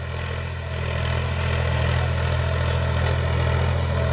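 A Swaraj 735 FE tractor drags a fully opened 14-disc harrow through a field at dusk, its diesel engine a steady, loud, low droning hum under load that holds continuously with no break and no voices.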